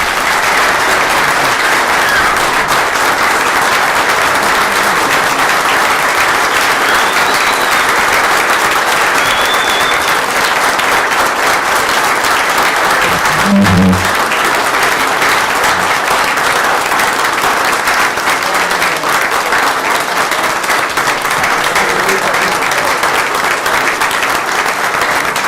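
Sustained, dense applause from a large audience at a police chief's swearing-in ceremony, loud and steady throughout with no break, with a brief thump partway through.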